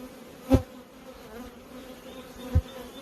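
Honey bees buzz around a new hive in spring in Michigan, a low, steady hum broken by two soft thumps.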